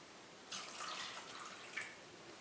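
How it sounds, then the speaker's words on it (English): Water pours from a faucet or cup into cupcake batter in a mixing bowl, a short steady splash and trickle lasting about a second and a half in a quiet kitchen. "And then you add the water."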